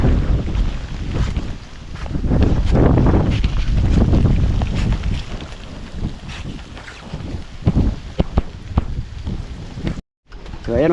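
Strong gusts of wind roar over an outdoor tomato garden damaged by a typhoon, buffeting the microphone in heavy, uneven waves with a brief dropout near the end.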